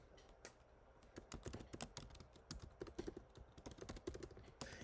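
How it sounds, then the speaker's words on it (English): Someone types a county name into a search bar on a computer keyboard, a quick, irregular run of light key clicks heard close and quiet, with no talking. "I live in Fairfax County, Virginia, so I'll type that into the search bar."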